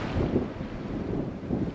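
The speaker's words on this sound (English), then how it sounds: "It's a little bit too windy" Steady wind from a Colorado winter storm buffets the microphone in low rumbling gusts, with a faint wash of a cold river beneath.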